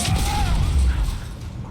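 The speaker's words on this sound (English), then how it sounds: "turrets go boom" Turrets exploding in Mass Effect: Legendary Edition, a deep rumbling boom with crackling debris that swells and then fades out over a second or so.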